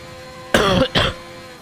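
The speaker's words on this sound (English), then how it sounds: "That's a cough there." Two sharp coughs close by, one right after the other, then quiet.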